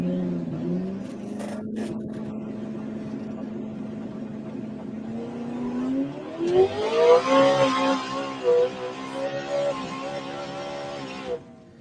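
An all-wheel drive car in a street race holds a steady engine drone, then revs hard through rising, shifting gears as it pulls away, loud and close, with a faint voice at the start.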